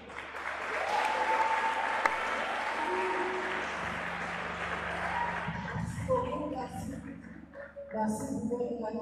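Audience clapping after a slam poetry performance at a regional competition, sustained applause that fades out, with a voice speaking and scattered crowd murmurs near the end.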